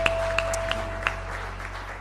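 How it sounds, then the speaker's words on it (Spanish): Church congregation clapping in praise to God, a scattered round of hand claps over a steady hum, fairly quiet and brief. "Fuerte ese aplauso a nuestro Dios."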